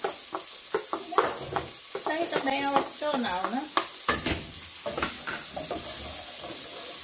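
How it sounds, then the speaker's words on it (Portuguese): Garlic and onion sizzle and fry in a pan while being stirred, with scraping strokes of the spoon coming in bursts and someone talking over the cooking. "eu gosto de fritar o alho primeiro"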